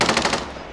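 A loud, rapid burst of automatic gunfire in Call of Duty: Modern Warfare, a short rattle of close shots tailing off quickly.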